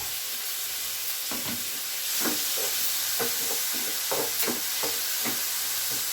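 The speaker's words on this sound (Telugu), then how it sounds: "వేసి వేయించుకున్నామండి ఉల్లిపాయ ముక్కలు వేగిపోయండి టమాటాలు వేసుకుందాం" Onions and tomatoes sizzle in a pan for a corn and eggplant curry. The steady, close hiss is broken by repeated scraping stirs.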